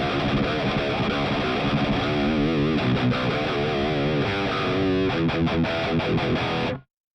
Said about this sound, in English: Very nice, current, like, modern progressive metal tone.